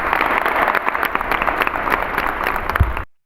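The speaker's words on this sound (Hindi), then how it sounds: "एक बार ताली" Crowd of schoolchildren and staff clapping for a race winner at a school sports day at a gurukul, steady dense applause for about three seconds before it cuts off abruptly.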